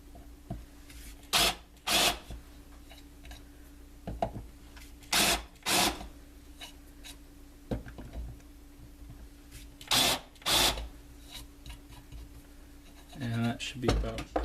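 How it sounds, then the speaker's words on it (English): A drill bores screw holes in a DNA 75 box mod enclosure, coming in several short, loud whirring bursts separated by quieter handling noise, close to the microphone, with talking in between. "You could probably use a slightly larger drill bit to do this."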